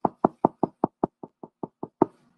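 Eleven sharp knocks on a door come in a steady, rapid series, close and fairly loud, with the final rap slightly heavier.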